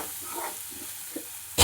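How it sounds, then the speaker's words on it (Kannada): Egg bhurji frying in a pan, with a steady hiss of sizzling under occasional soft scrapes of stirring and a sharper clatter at the end. "ಚೆನ್ನಾಗಿ ಫ್ರೈ ಆಗಬೇಕು."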